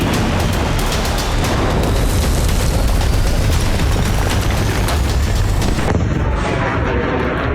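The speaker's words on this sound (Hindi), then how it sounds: "ईरान की बैलिस्टिक मिसाइल जब ग्रेटर तेल अवीव पर गिरी तो भयानक धमाका हुआ।" Ballistic missile striking Greater Tel Aviv in news footage, a dense, loud barrage of rumbling blasts and booming crackle that runs continuously before cutting to a quieter, thinner tail.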